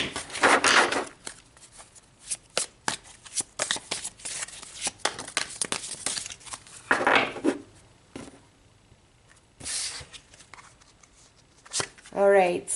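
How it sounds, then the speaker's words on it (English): Tarot cards are cut and shuffled close up in a series of quick riffling bursts and papery slaps, separated by short pauses, with a person speaking softly in between. "Okay, cut, shuffle. That's what I felt. Cut and shuffle."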